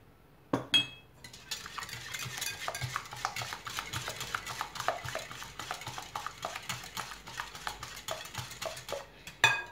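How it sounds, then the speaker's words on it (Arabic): Eggs and sugar being whisked by hand in a bowl, a rapid steady series of light metallic clinks and taps against the bowl, close and alone, starting and ending with sharper knocks. "نبداو نخدمو غير بالفوي هكا غير يتجانس البيض مع السنيده"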